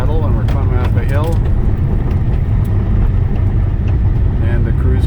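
A 2009 Pontiac G5 climbing a hill under cruise control, its engine and road noise a steady loud drone throughout while someone talks over it.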